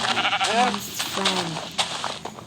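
Sheep bleat in the Minecraft video game, two or three wavering, nasal game bleats in quick succession, with a player's voice chattering alongside.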